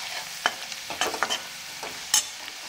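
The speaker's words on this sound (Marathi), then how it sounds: "लसूण आपला परतलेला आहे" Garlic being sautéed lightly in a pan for fenugreek (methi) bhaji: a soft steady sizzle with a few sharp scraping stirs of the spatula, close and fairly quiet, no talking.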